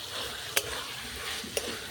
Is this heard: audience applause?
no